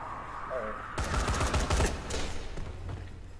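Dense burst of video game gunfire in Dying Light, a rapid close volley of shots lasting about a second, then fading into a lower rumble with faint background sound.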